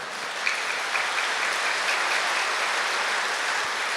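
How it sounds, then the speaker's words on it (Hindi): A gathering at a spiritual discourse breaks into sustained applause, a continuous, fairly loud roar of many hands clapping together without pause, no speech over it. "हाथ जोर से ताली बजाओ"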